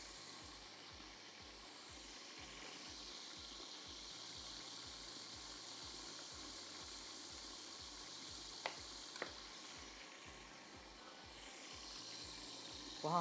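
Lemon pepper chicken wings fry with a steady, close sizzle and crackle of hot oil throughout. A couple of brief sharp clicks break in near the end.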